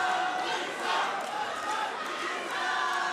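Roaring crowd at a combat fight event, a dense, steady wash of cheering and shouting that fills the whole stretch without a break.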